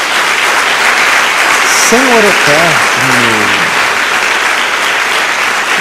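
Church congregation clapping loudly in praise to Jesus during a sermon on the Lord's Supper, a thick continuous roar of applause with a voice speaking briefly over it.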